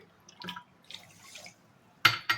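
Water is added to sugar in a pan to make syrup for kalojam sweets, heard as a few faint drips and splashes in a quiet kitchen, ending in a couple of louder splashes.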